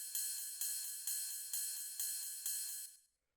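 A techno-style ride cymbal sample strikes six times at an even pulse, each bright hit decaying into a widening echo before the next, with the tail cut off at the end.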